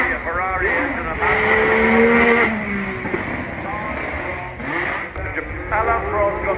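A Renault turbo Formula 1 car engine at the Goodwood Festival of Speed revs with rising and falling pitch sweeps, fairly loud and steady, under a commentator's continuous talk.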